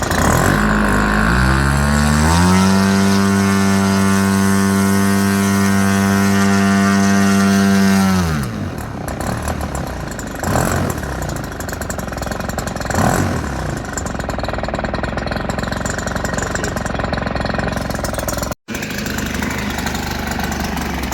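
A giant scale F8F Bearcat model plane engine runs at full power, a loud rising buzzing drone that holds steady, then drops off and settles into a rougher, lower running sound with a brief cutout near the end.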